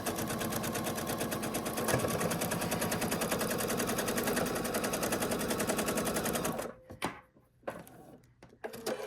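A sewing machine stitches steadily across a quilt block in a fast, even mechanical rattle, close and loud, then stops abruptly with a few short bumps and clicks as the fabric shifts near the seam.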